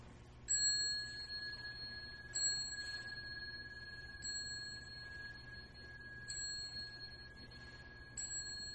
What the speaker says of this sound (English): you could just clang the chime there